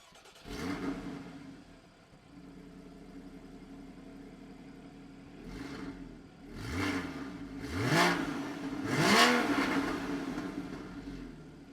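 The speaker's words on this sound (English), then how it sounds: "I just wanted you guys to hear what it sounds like just firing up the engine" A Porsche Boxster 981 with PDK gearbox starts up and settles into an idle, then gives several sharp rising revs in quick succession, each climbing and falling back, heard close and clear with no talking.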